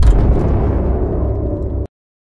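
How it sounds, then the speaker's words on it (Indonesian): A single loud, booming capsule explosion in a film rumbles heavily for nearly two seconds before cutting off abruptly. "karena jika Hannah sedikit saja terlambat, maka ledakan kapsul akan ikut menghancurkan Rubicon."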